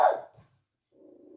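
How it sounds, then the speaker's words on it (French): A neighbour's dog gives one sharp, fairly loud bark, followed by a pause and then a low, faint, sustained growl or whine. "Ils sont fous, ces chiens. Mais ils sont fous."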